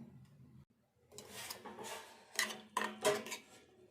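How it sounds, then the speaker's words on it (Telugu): Salt, turmeric, coriander and a piece of ginger ground by hand into a coarse paste for an egg curry, a close rough scraping and rubbing that comes in uneven strokes and grows louder in bursts toward the end. "ఇది ఇప్పుడు పేస్ట్ పట్టుకుందాము."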